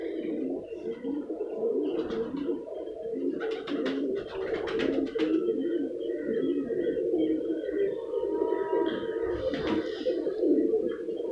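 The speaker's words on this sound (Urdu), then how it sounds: "یہ بریڈر کبوتر ہے, بریڈنگ میں ہے." Malangi breeder pigeons coo softly and repeatedly in a loft, low throaty calls overlapping in a steady stream with a few brief flutters and higher chirps mixed in.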